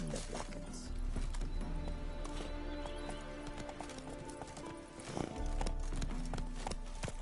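The horse Roach gallops in The Witcher III video game, with rapid, rhythmic hoofbeats pounding continuously over game ambience, a brief whinny rising in the middle.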